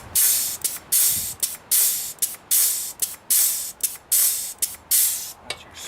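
Grease sprayed onto the roller-wheel spindles of a mower in a rapid series of about a dozen short, loud, hissing bursts with brief gaps between them, and no voices.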